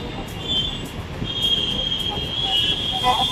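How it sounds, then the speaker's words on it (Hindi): A metro train passing overhead, a rumbling roll with a sustained high wheel squeal building and fading, heard from nearby at street level. "चले मेट्रो ऊपर निकल भी गई है, वो देखो"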